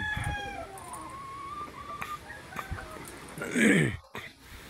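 Chickens in a backyard coop cluck and call in short, close bursts, with one louder, rising squawk near the end, while a person talks over them.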